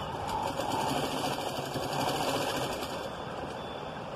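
A sewing machine stitches back over existing stitches on a baby's langa jacket, a continuous close hum and rapid needle chatter holding steady for several seconds without talk.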